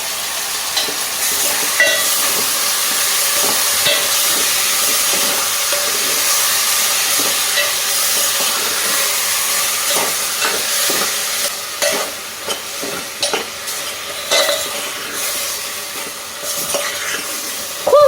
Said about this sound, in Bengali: এই ডালটা হয়ে যায় নাড়াচাড়া করে দিয়ে দেবো